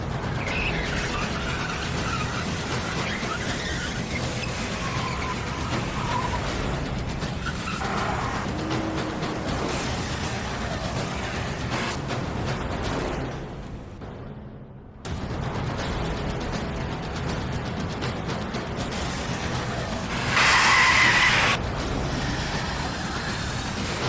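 Tires skid and engines roar through a movie car chase, a steady dense rumble that drops out briefly midway and returns with a sharp bright screech near the end, no voices over it.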